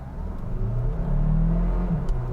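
A 2022 Hyundai Tucson PHEV launches from brake torque on a level road. The engine rises in a short, even surge, heard close from inside the vehicle.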